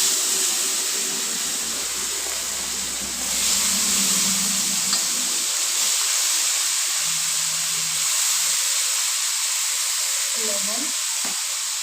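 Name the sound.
potatoes frying in a pan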